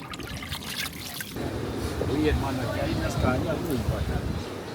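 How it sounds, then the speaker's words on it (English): Water splashes and trickles while a dirty suitcase or camera bag is washed in a bath, a close, bubbling flow that swells after a brief opening of speech. "we're washing my suitcase or my camera bag because it got dirty as fuck with the camera"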